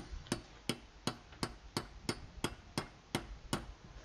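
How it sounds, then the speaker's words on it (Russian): A bearing is driven into a Voskhod motorcycle engine crankcase with a mandrel, producing ten sharp metallic hammer blows at an even, steady pace, close up and without speech. "при помощи оправки, не перекашивая, запрессовываем подшипник."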